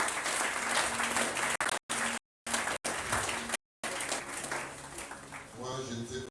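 A church congregation at a special closing ceremony breaks into loud sustained applause and cheering, with voices mixed into the clapping and brief dropouts in the sound.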